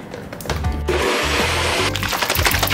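A smoothie whirring in a blender, loud and close, with a revving motor that shifts pitch in uneven pulses as the contents churn, no talking.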